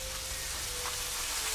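Pancake hamburgers frying in a pan give a steady, faint, continuous hiss in the background, with no talking over it.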